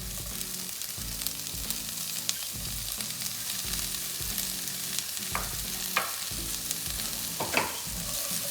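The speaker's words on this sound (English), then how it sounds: "So our potatoes have been cooking for about 5 to 7 minutes on low flame" Potatoes cook in a pan on a low flame, giving a steady, close sizzle with the scrape of stirring repeating at regular intervals and a few sharp pops.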